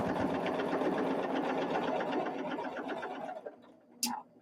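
A sewing machine runs steadily as it stitches the last seam of a quilt block, a continuous close whirring buzz that slows and stops near the end, followed by a brief click.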